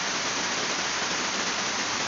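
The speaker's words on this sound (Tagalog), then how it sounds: "Malakas ng ulan." Heavy rain pours steadily and loudly as a dense, unbroken hiss, with no other sounds over it, in a home kitchen during dough making.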